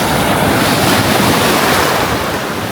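Ocean waves breaking on a beach during a morning walk, a continuous loud wash of surf mixed with gusty wind buffeting the microphone.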